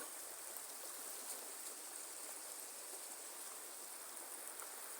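Floodwater rushing beneath a bridge during a flood, a steady loud broadband wash of flowing water that holds constant with no break and no talking.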